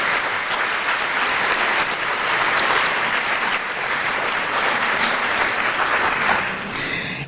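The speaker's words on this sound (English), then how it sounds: "could we give these folks a very inspiring round of applause" A sustained round of applause from a symposium audience honouring area clergy, dense and steady hand clapping that fills the room without pause and tapers slightly at the end.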